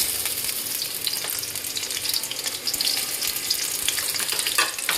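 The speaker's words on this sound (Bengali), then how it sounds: "কিছু রসুন ভেজে নেব।" Steady, loud sizzling of onion and garlic frying in a hot pan, a dense crackling hiss that continues throughout with no talking.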